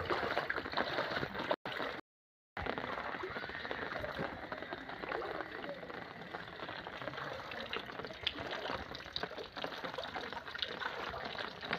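Rainwater runs through a residential colony outside houses and across a courtyard, a continuous soft rushing wash of flowing water broken only by a brief dropout.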